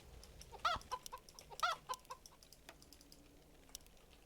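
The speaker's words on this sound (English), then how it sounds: "Fat chickens." Chickens cluck in Warcraft 3 Reforged, a custom Barrens tower defense map: two distinct clucking bursts about a second apart, followed by faint game sounds and clicks.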